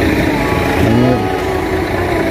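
Case Pro 7210 tractor engine running nearby, a steady mid-pitched diesel drone with a brief swell in revs partway through.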